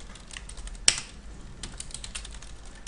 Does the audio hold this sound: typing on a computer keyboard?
yes